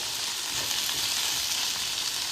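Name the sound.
okra (bhindi) frying in a pan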